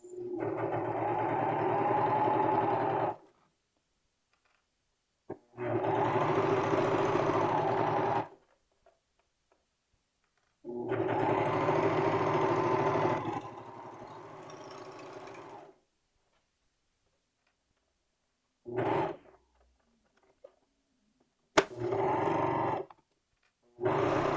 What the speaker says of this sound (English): if you're sewing with your serger, you want to make sure you're cutting off the correct amount of seam allowance